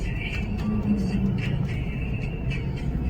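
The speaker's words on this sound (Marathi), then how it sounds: "बापरे गाडीवर गाडी येऊ राहिल्या मस्त" Vehicles drive past one after another on a road, a constant loud engine and tyre rumble that swells slightly as each one goes by.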